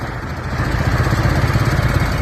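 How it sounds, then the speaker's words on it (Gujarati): A tractor engine runs close by on a road near Kadi, a loud, steady chugging rumble with a fast, even pulse throughout the brief stretch and no voices. "એ કડીમાં આ ટ્રેક્ટર લઈને ક્યાં જાવ?"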